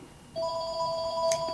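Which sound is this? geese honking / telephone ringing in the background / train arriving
telephone ringing in the background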